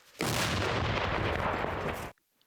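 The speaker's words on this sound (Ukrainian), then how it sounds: "Один снаряд вогонь! Армата! Постріл!" A single loud, close artillery blast from a gun firing one round roars for about two seconds and then cuts off abruptly.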